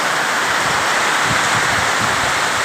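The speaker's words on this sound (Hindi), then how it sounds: "कितनी तेज़ बारिश हो रही है।" Heavy rain pours down in a park as a dense, steady hiss that is close and continuous throughout, with no voices.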